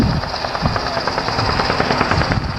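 A big, heavy military aircraft of about 50,000 pounds maximum takeoff weight roars past at an airshow display, a loud, steady engine and propeller drone with a rhythmic pulsing throb, close and alone.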